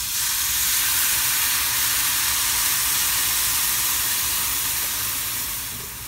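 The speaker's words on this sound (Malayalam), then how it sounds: "ഇനി നമുക്ക് ഇതിലേക്ക് ആവശ്യമായിട്ടുള്ള പാൽ ഒഴിച്ചു കൊടുക്കാം." Milk poured into a hot pan of fried flattened rice (aval) for avil payasam gives a steady, loud sizzling hiss that runs unbroken throughout, easing slightly at the very end.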